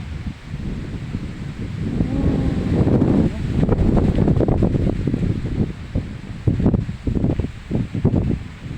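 Cold wind blowing outdoors, a steady, fairly loud rush and rumble with gusty swells and rustling throughout, close to the microphone.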